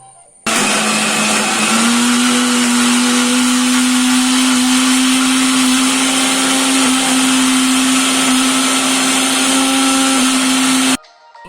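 A mixer grinder whirs at a steady high pitch as it grinds coconut red chutney with salt, tamarind and water, starting abruptly and running loud and unbroken for about ten seconds before cutting off.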